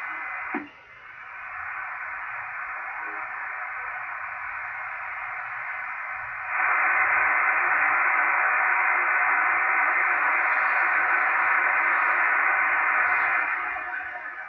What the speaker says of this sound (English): I think I'm hearing it again very weak on 3054 right now.